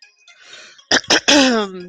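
After a faint murmur, someone clears their throat in a few sharp, close bursts, ending with a voiced hum-like sound.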